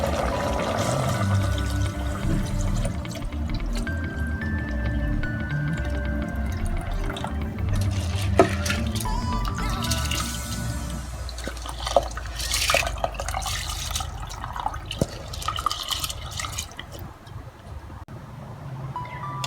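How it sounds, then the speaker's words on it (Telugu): Washed, soaked rice is tipped into an electric rice cooker of measured water for chicken biryani, making a wet pouring and trickling splash with scattered drips and clinks that thin out toward the end. "ఈ స్టేజ్లో మనం కడిగి నానపెట్టుకున్న బియ్యం ఉన్నాయి కదండి, అది మొత్తం వేసేస్తున్నాను."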